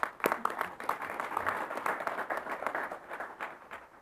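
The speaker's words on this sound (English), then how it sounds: "We'd like to give them a round of applause." Scattered hand clapping comes from an audience at an NHL All-Star Weekend event, fairly faint and uneven, with individual claps standing out in a loose, thinning round.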